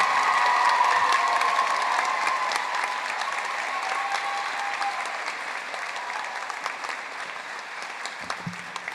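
Sustained applause from a large audience at a Manship School of Mass Communication commencement ceremony, honoring new graduates, loud and steady throughout before tapering slightly near the end.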